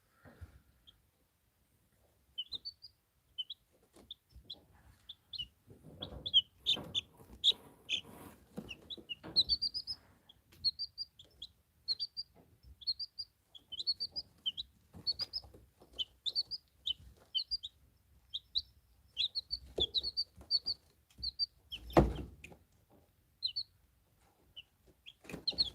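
Young chicken chicks peep in quick high chirps, scattered and repeated, with occasional clucks and soft knocks nearby in a quiet indoor space.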